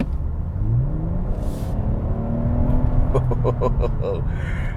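A 2020 Toyota Camry TRD with an 8-speed automatic under hard acceleration, its engine note rising in a steady climbing whine and rumble, with a voice talking over it near the end.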